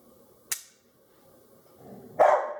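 A dog barks once indoors near the end, loud and close, after an earlier single sharp click and a quiet stretch.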